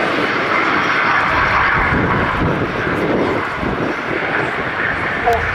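An aircraft takes off at the Cosford Air Show, its engine roar loud and sustained from start to finish, with talk heard over it.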